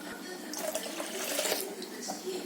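Two tumblers of water poured into a sambar pot holding spices and salt, giving a steady, moderately loud splashing gush of liquid that carries on throughout.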